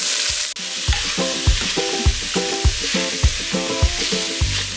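Mild Italian ground sausage and onion frying in oil in a pot: a steady loud sizzle with a spatula repeatedly scraping and stirring in a regular rhythm, close by, with no voices.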